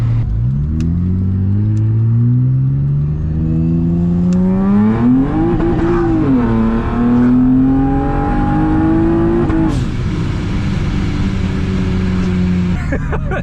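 A turbocharged Acura TL-S engine revs up hard, its pitch climbing, easing, then surging again before dropping off, a roaring, rumbling acceleration close by.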